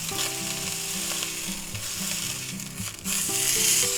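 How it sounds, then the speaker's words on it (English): A sirloin steak sears in a pan with a loud, close and steady sizzle. A sustained droning tone hums underneath, and the hiss briefly dips near the end before surging again. "Now we'll get a little sear on that side, and then we'll flip it over again."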